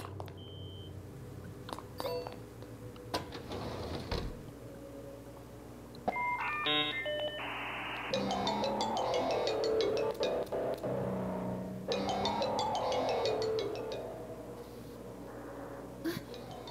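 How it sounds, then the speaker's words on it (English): A phone ringtone in the video game Monark plays as a series of quiet electronic beeps and chiming tones, starting sparse and then building into denser melodic bursts over low background ambience. "Even the ringtone is creeping me out."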